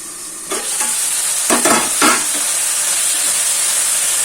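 Spices and tomato sizzle in a hot pan as a tempering for tomato bath, a steady bright hiss of frying with a few stirring scrapes and clinks early on, no talk.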